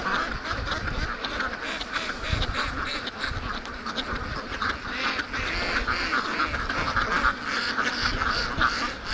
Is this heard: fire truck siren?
no